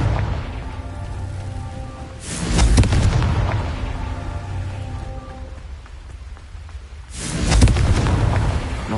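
A Confringo fire spell goes off in the Hogwarts Legacy game. Two loud, rumbling fiery blasts come roughly five seconds apart, each trailing off into a crackling, rain-like hiss, with nobody talking.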